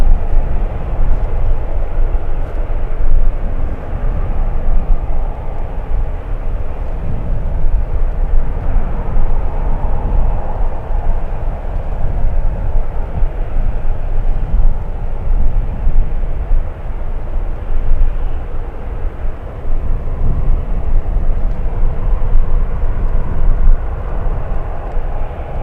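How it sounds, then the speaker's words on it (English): At San Francisco airport, a Boeing 757 airliner lines up on runway 28 left, its engines a distant, steady broadband roar that rumbles on without a break for over twenty seconds. "757 is lining up on 28 left"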